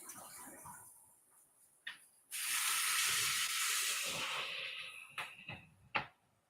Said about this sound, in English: Whoops, boiling over.